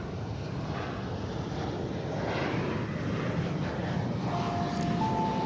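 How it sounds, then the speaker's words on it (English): A jet airliner takes off at DFW Airport at night, a broad continuous roar that builds slowly and steadily from a distance, with a faint tonal whine rising near the end. "That's a takeoff there."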